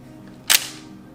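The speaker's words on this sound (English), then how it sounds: "pop the shutter" A single sharp shutter release on a Ricoh KR-5 Super II 35mm SLR camera after repair with the lens fitted, a brief crisp mechanical snap over quiet room hiss.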